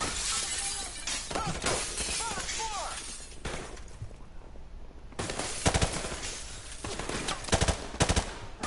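Video game gunfire bursts out in loud, sharp volleys with shattering impacts that come in clusters, broken by a short quiet gap, and voices talk over the action.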